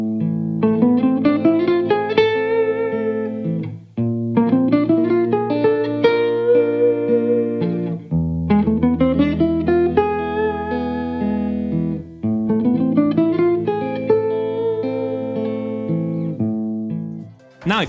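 Instrumental passage with a melody running straight up and down the A Neapolitan minor scale over a repeating chord progression, four phrases of steady stepwise notes with sustained chords underneath, alone without talk.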